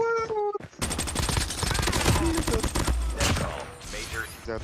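Rapid bursts of automatic gunfire rattle almost continuously, loud and close, with brief voices and electronic game sounds mixed in.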